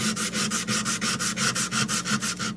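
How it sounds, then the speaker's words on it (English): Rhythmic back-and-forth scratching of sandpaper on wood, about a dozen even strokes in a steady tempo, close and alone. "just hand sanding, because, like I said, hand sanding is boring"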